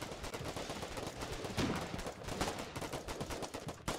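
Distant, steady gunfire in the war game Foxhole, a quiet, dense rattle of overlapping shots running throughout, with occasional louder cracks and no clear voices.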